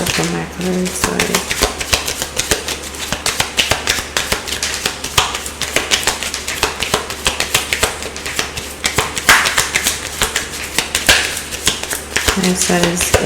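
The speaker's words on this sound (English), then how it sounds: "I need to shuffle my cards, sorry." A deck of tarot cards is shuffled by hand close up, giving a steady, rapid stream of papery taps and riffling clicks that runs unbroken for over thirteen seconds.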